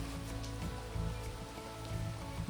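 Cold night rain falls steadily on a house, a dense, even patter with a low rumble beneath, continuous and moderately loud with no voices over it.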